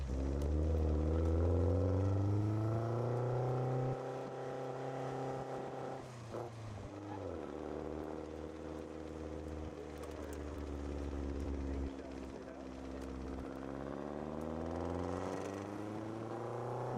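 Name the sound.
Lotus car engine during a ride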